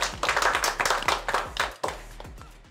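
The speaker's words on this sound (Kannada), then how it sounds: "ಬರ್ಲಿ ಜೋರ ಚಪ್ಪಾಳೆ" Loud audience clapping on a studio set during a Kannada home-show episode, a steady burst of many hands close and full, with a brief dip before the applause resumes and fades.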